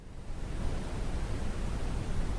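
White noise played as an example, a steady broadband hiss that fades in at the start and then holds constant, alone with no voices.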